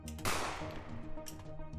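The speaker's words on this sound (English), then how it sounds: "Suddenly another gunshot can be heard from distance." A single distant gunshot in a city setting with several buildings and a water tank tower, a sharp crack early on followed by a long, fading reverberating tail.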